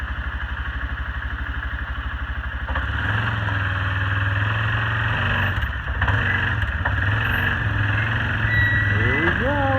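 A vehicle engine idles and runs steadily at close range as it is slowly driven out the back at a deer camp in Maryland, a continuous low rumble with slight rises in pitch.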